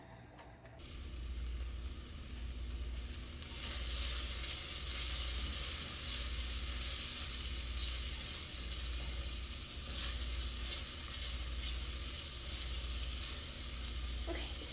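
Sweet garlic slices cooking down in a pan, a steady, even hiss of frying that holds close and constant throughout with no talking.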